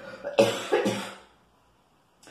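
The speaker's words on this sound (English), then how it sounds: "I turned away from the camera there so I didn't cough all over you." A person coughs two loud, close bursts in quick succession, turned away from the microphone, followed by near silence and a faint sound at the very end.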